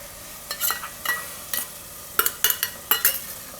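Spoon stirring yogurt into spices frying in oil for a Gujarati guvar and soya vadi curry, with scraping strokes and sizzling bursts roughly every half second, growing busier toward the end; no talking.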